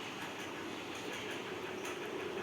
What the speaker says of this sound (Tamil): இந்த கேமு இங்கே ட்ரெயின்லாம் வரும்